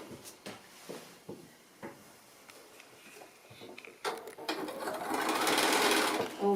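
Sewing machine stitches a seam across fabric for a fabric basket, opening with scattered handling knocks and then building into a loud steady close whirring run.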